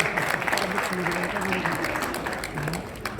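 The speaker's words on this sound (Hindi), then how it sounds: "जोरदार तालियां सर के लिए" Applause from a seminar audience on naturopathy in Delhi, steady dense clapping across the whole stretch, moderately loud, with faint voices murmuring underneath.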